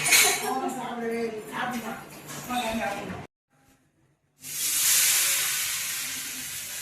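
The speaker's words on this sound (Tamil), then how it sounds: "என்னப்பா ஃபிஷ் வறுக்கிறீங்க போல இருக்கு." Steady sizzling hiss of fish frying in hot oil in a home kitchen, loud and broadband, following a stretch of talk and a brief quiet gap.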